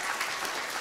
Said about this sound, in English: we need to give Ayla a special hand of applause.